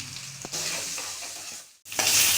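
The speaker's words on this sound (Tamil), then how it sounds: "வெங்காயம் நல்லா வதங்கிடுச்சு." Onions sauté in a hot pan for an anchovy dry fish gravy, giving a dense, continuous sizzle with stirring scrapes and a brief lull just before the frying surges back.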